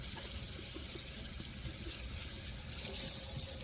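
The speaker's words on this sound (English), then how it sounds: "We're gonna rinse all of the poblano." Fresh poblano peppers are rinsed under a kitchen tap, with a steady stream of running water splashing close by, moderately loud and without talk.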